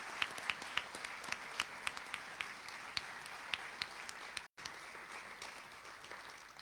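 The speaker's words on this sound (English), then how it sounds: "Please give them a round of applause," Audience applause at a school senior academic awards ceremony, quiet and distant crowd clapping with a few sharp nearby claps popping out in a steady rhythm, a brief dropout partway through.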